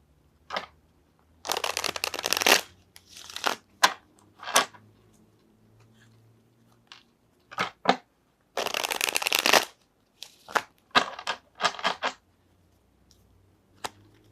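Tarot cards are shuffled and drawn in several bursts, with long riffling rushes and short sharp snaps between quiet pauses.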